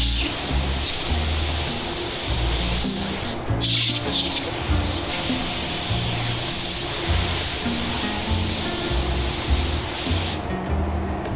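Etch primer sprayed from a can onto bare metal on an off-road truck produces a sustained hiss that runs almost without pause, close and fairly loud, with short breaks near the start and end.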